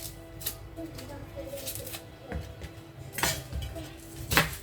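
Onions being cut with a knife right in a frying pan, giving light clinks and taps of metal on the pan with scattered scraping, a couple of sharper knocks, and a low hum of kitchen background throughout.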